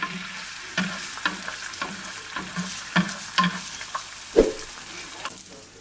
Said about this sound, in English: Okay, the butter's melted. Now we're going to be adding the eggs in the middle